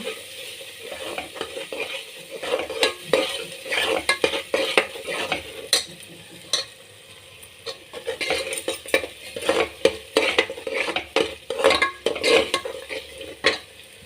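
Ground masala and vegetables for a puri sagu curry fry in a pan, under a loud, close sizzle, with many sharp metal spoon scrapes and clinks against the pan as the mixture is stirred.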